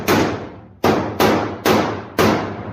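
Five heavy hammer blows land in a steady rhythm, each a loud close thud that rings and decays before the next strike, with no talking.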